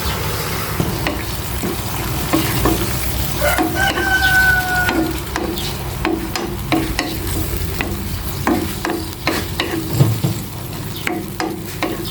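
Chili and alamang shrimp paste fry in a pan with garlic, giving a loud, continuous sizzle broken by repeated stirring and scraping. A rooster crows faintly in the background, and no one speaks.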